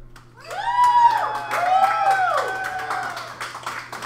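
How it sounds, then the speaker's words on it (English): Open mic crowd at a bar making noise in a sustained wash of clapping and cheering, with loud whoops and shouts rising over steady applause throughout. "So now I need the crowd to make some noise."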